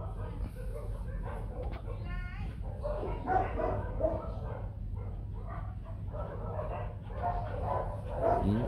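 A pair of white Bac Ha dogs in a Vietnamese village bark in short bursts mixed with whimpers and yips, fairly faint over a steady low background hum, with a voice talking at times.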